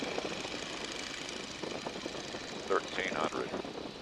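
A Stearman biplane's engine drones steadily as it is throttled back to about 1,300 RPM in flight, a continuous low rumble with an instructor talking over it and a couple of brief higher tones near the end.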